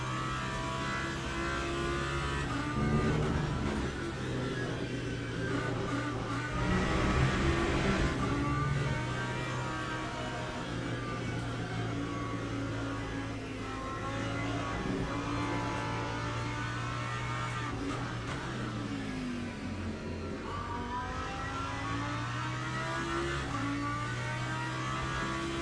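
A GT race car in Le Mans Ultimate runs through a long stretch with a continuous droning engine note that rises and falls through the gears, braking hard into corners and accelerating back out, with no talking.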